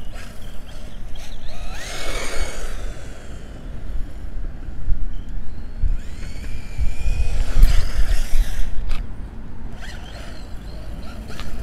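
Tamiya TD2 Stealth Fighter RC car buzzing and whining through its first run outdoors, electric motor rising in pitch as it speeds up and fading as it pulls away, with a louder burst near the end.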